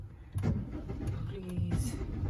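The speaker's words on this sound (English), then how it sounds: "this car is not getting started. Why it is cranking?" A car engine cranks without catching, the starter grinding in short uneven bursts at moderate distance, separated by brief pauses and a few faint clicks.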